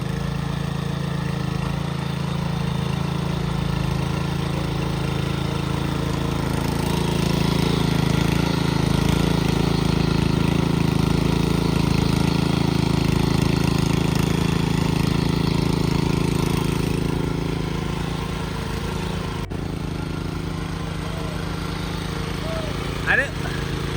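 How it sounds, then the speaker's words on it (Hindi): A tractor engine runs steadily at a farm in Kotrisain, Uttarakhand, a loud continuous low mechanical drone that rises slightly midway and holds throughout. "अब संतोष ने पकड़ ली है बागडोर ट्रैक्टर की।"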